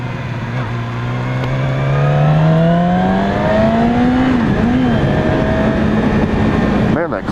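A Yamaha R6 sport bike on a test ride, its engine note climbing steadily as it revs up through the gears, loud and close with heavy wind rush, then easing and shifting before a brief buffeting at the end.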